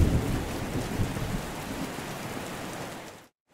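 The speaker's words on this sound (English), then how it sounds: "The rain is just so cozy." Steady heavy rain pours down in a dense, even hiss with a low rumbling undertone, loud and close throughout before cutting off abruptly at the end, with no voices.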